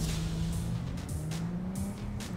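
A car driving at night in the video game Cyberpunk 2077, with a steady low engine hum and faint tire noise, moderately quiet and continuous without speech.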